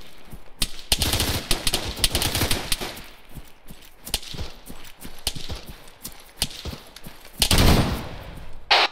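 Rapid gunfire in the military video game ARMA 3: sharp, close shots crack out in fast irregular bursts throughout, thickest at the start and in a dense volley near the end.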